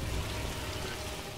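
Steady, dense rain falls in the video game L.A. Noire, a constant close hiss with no speech over it.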